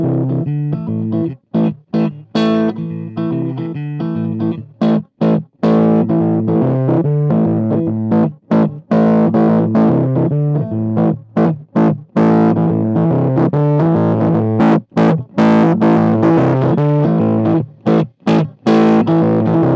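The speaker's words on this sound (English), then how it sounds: "we'll start off with the DOD emulation, just dial in a little bit of gain and have a play around with the tone" Electric guitar played through the distortion emulation of a PEDALz 1.0 pedal by Analog Obsession, with a little gain dialed in; loud, sustained overdriven chords and riffs with frequent short stops and restrikes across the passage.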